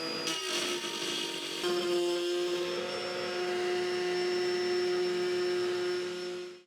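A power tool bit cuts a piece of wood set 1/8 inch deep in a jig, giving a loud, steady whine with a strong tonal hum that holds even before it cuts off sharply.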